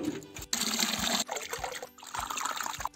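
Water from a household motor pump runs into vessels being filled, a steady close trickle and gush with short breaks between fills and faint low thumps.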